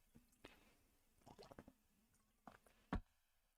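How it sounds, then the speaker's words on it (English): Someone takes a quick drink of water close to the microphone, with soft wet sips, swallows and a louder gulp near the end, all faint and sparse with no talking. "Quick little water break."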